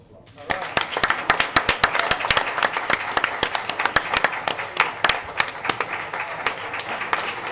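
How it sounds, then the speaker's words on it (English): A round of applause breaks out in a room at a mayor and council meeting, quiet at first and then a steady run of distinct hand claps from a modest group that carries on for several seconds. "round of applause."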